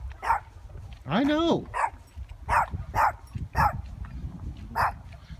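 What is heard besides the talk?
big dog barking and whimpering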